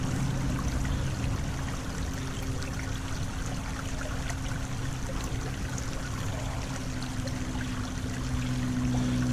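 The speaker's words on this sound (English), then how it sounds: "This is the inner city creek in between a couple of buildings." Water trickles steadily through a sluggish inner-city creek running between buildings, a constant close babbling wash with a low hum of urban background underneath, no voices.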